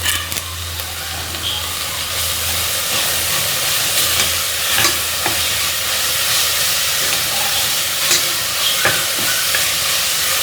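Garlic, crushed green chilli and curry leaves fry in a pan, giving a steady close sizzle and hiss throughout with occasional stirring scrapes, with no talking.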